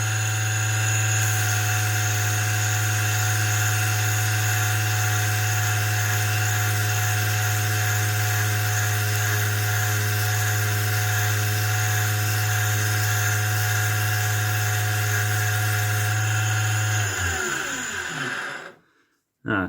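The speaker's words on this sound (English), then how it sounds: "So we'll sand that down a little bit more." A bentwood ring is sanded with 120 grit sandpaper on a powered tool that gives a steady, loud motorized whine with a deep hum, running nonstop for about seventeen seconds before winding down and stopping.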